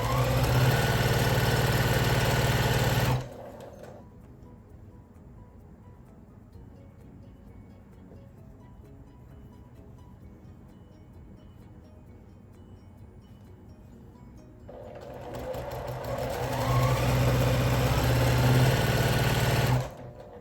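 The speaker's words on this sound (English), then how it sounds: "Let me sew these." A sewing machine stitches quilt block pieces for a barn star sampler block, a loud steady whir for about three seconds, then a long quiet pause, then another steady run near the end.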